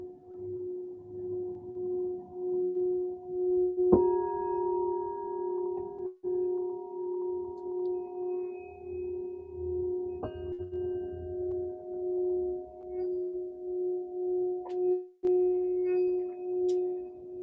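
Singing bowls ring out during an evening meditation, each struck tone blooming then sustaining in long, pure, overlapping hums, with fresh strikes every few seconds in a quiet room.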